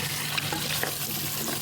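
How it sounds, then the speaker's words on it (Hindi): Beef paya bones and meat pieces frying in masala in a pot give a steady, close sizzle that holds at an even level with a few soft stirring scrapes. "ये जो हड्डी और बोटियाँ थी इसकी हम पाए में डाल के मसाले में डालकर पाए की इसकी बहुत अच्छी सी भुनाई करेंगे"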